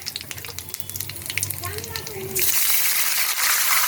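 Water goes into a hot pan of frying asafoetida and five-spice seeds. A crackling sizzle abruptly swells into a loud, sustained hiss, heard close.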